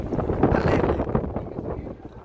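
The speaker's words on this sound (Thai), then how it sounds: "เราอยู่บนสะพานนะคะลมมันก็จะแรงนิดนึง" Strong wind buffets the microphone on a bridge in Copenhagen, a continuous loud rumbling roar that swells and eases over a couple of seconds with no clear talk.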